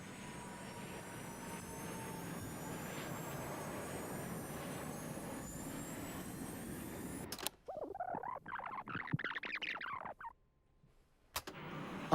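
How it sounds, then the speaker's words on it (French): Loud jet engines of an Airbus A320 roar and build during a low pass shortly before a crash, sustained for about seven seconds. Fainter whooshing and rumbling follow after a sudden cut, and there is no talk. "on entend distinctement le bruit de l'accélération des moteurs de l'A320"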